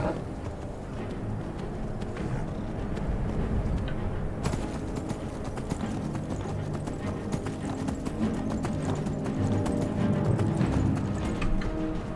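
Steady clip-clop of horse hooves trotting in the video game Skyrim, close and continuous, with a faint whinny and a low rumbling background throughout.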